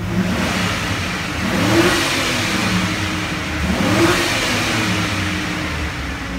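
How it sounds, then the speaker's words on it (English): A 2003 GMC Sierra 6.0L Chevy LQ4 LS V8 with 101K miles revs up twice from idle, each rise swelling and falling back in a loud, steady rumble. "We'll give it a couple revs,"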